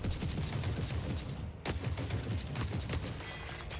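Sniper and other gunfire during a firefight in the video game The Forever Winter, a dense, continuous barrage of rapid shots and cracks with heavy low rumble, loud and sustained with a brief break partway through.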